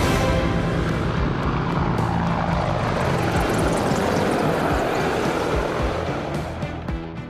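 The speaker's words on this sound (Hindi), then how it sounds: "इसमें एक लाइट कॉम्बैट हेलीकॉप्टर, 2 अपाचे और 2 एडवांस्ड लाइट हेलीकॉप्टर जोश और जुनून को चरम पर ले जाएंगे।" Military helicopters, a light combat helicopter, Apaches and advanced light helicopters, fly past at the Indian Republic Day parade, a loud, dense, continuous rotor and engine roar that fades slightly near the end.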